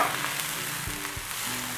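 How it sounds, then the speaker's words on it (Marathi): Cluster beans stir-fried in a pan with salt and turmeric give a close, steady sizzle, broken by a couple of soft scraping stirs, with no voices. "आपल्याला गवारी व्यवस्थित भाजून घ्यायची आहे।"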